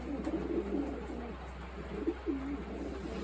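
A young racing pigeon coos in a string of low, soft, warbling calls that rise and fall in an uneven rhythm, close by against a steady low hum.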